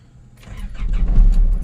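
An Isuzu D-Max 3000 turbo pickup cranks and its engine catches, the low diesel rumble building from quiet into a steady, close, loud idle with no one speaking.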